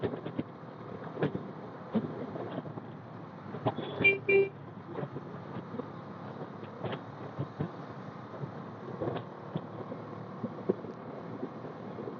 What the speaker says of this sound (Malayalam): ഇപ്പം ബാക്കിൽ നിന്നൊരു കാറ് വരുന്നുണ്ട്, അതുകൊണ്ട് എനിക്ക് റൈറ്റ് എടുക്കാൻ പറ്റില്ല.